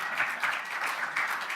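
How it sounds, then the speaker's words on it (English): Audience applause at a business group's opening remarks event, a brief, moderately loud patter of clapping with no voices over it. "Come on, applause."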